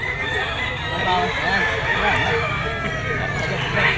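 A rooster crows and chickens cluck in a noisy, busy pet market, with a steady din of voices and activity around them.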